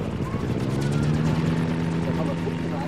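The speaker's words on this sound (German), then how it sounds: "das ist kein Heli, das ist ein Tragschrauber oder ein Gyrocopter" Rotor and engine drone of a gyrocopter flying overhead, a steady buzzing throb with voices talking over it.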